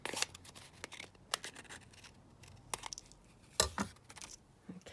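Scissors trimming paper for a Christmas papercraft project, quiet close snips in short irregular bursts with small rustles and pauses between cuts.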